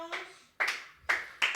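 Scattered, faint hand claps in a church setting, heard as a few separate bursts of clapping spaced through a quiet moment of a sermon.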